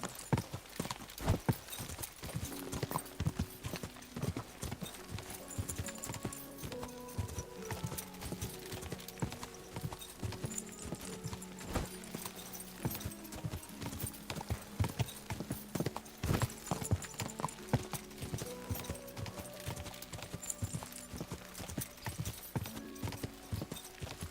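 Horse hooves clip-clopping at a steady trot in Kingdom Come: Deliverance 2 on PS5, with a simple melodic tune playing underneath, the beats crisp and continuous throughout.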